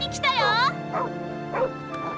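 A dog in the Tekken 8 fighting game barks and yips near the start, followed by a couple of softer whimpering yelps, close and clear against a steady game soundtrack.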